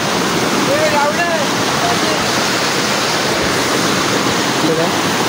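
A monsoon waterfall roars as a steady, dense rush of falling water, loud and unbroken throughout, with faint voices barely audible beneath it.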